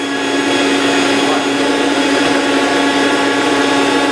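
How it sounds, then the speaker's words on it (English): A Rainbow vacuum cleaner runs during an in-home demonstration, producing a loud, steady, high-pitched whir that holds constant from start to finish. "I'm going to let this run for just another minute while I try to rebuild your vacuum"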